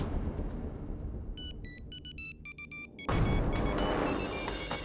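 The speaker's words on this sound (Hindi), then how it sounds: "ये शायद अवनी का फोन।" A telephone rings in short, bright electronic bursts repeated in a quick pattern over a low rumbling background, then a louder noisy wash takes over near the end.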